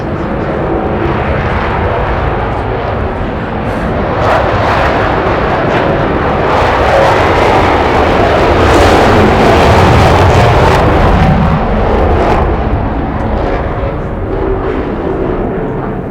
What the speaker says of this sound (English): that first jet, that was Daniel Inouye. That second one, that was Ted Stevens. They're like circling us right now.